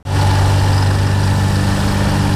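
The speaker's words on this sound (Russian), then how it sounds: "Гул моторов спецтехники слышно издалека." Construction machinery works on a new sidewalk in a town street, engines rumbling loud and close in a steady low idle that starts abruptly and holds without talk.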